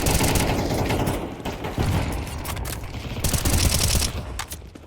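Rapid gunfire from a Counter-Strike 2 match in a tournament cup, dense bursts of automatic shots and clattering weapon mechanics filling the whole stretch with barely any pause.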